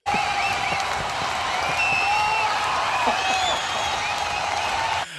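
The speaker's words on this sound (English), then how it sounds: "Let me give her a clap." A stock applause-and-cheering effect plays on a podcast: dense crowd clapping layered with whoops and whistles, holding at an even level before stopping sharply.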